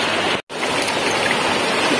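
A clear stream flows steadily, giving a broad, constant rush of water close by that cuts out for a moment early on and then carries on unbroken.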